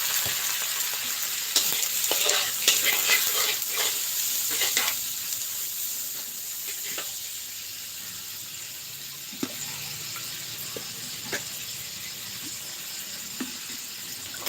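Shrimp and squid stir-fried with roasted chili paste and holy basil in a pan, a loud continuous sizzle broken by scraping spatula strokes and clinks, busier in the first few seconds and then settling into an even hiss.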